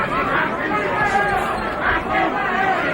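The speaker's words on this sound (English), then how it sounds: "Crowd booing the tactics of Tony Tucker" Boxing arena crowd at a Mike Tyson versus Tony Tucker fight, a steady roar of booing and chatter from many people, loud and continuous throughout, with no single voice standing out.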